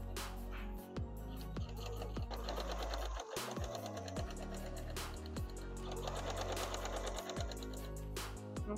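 A sewing machine stitches a bicycle bag, its needle hammering in rapid bursts separated by short stops, close and steady with no talk.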